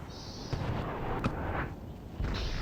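Artillery fires in Empire: Total War, distant booming cannon shots, a few separate thuds over a low battlefield rumble, fairly faint.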